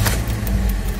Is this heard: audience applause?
no